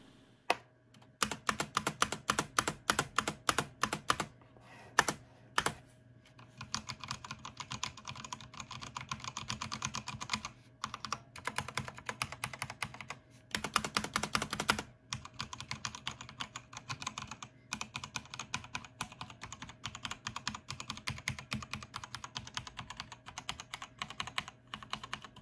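Steady typing on a Patriot Viper V770 mechanical keyboard with Kailh Red switches, close, fast clusters of soft key clacks with brief pauses, moderately quiet and free of talk.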